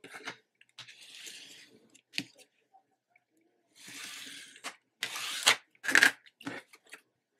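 A small edge being cut off a journal page: a few quiet, separate snipping and crinkling bursts with short pauses between them and no talking.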